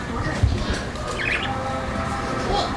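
Pet birds chirping and squawking while they eat, short tweets and calls at moderate loudness, with people talking over them.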